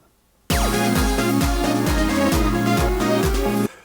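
Korg Electribe Wave synth app on iPad plays a pattern of hard, clean digital tones with a punchy kick pulsing in a steady rhythm, loud and alone, cutting off abruptly.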